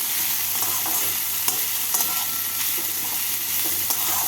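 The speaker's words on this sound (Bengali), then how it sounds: "পেঁয়াজ কুচিগুলোকে হালকা বাদামি করে ভেজে নেবো" Chopped onions frying in a pan for a masoor dal dish, a steady broadband sizzle holding throughout with a few soft stirring clicks, close and fairly loud, with no voices.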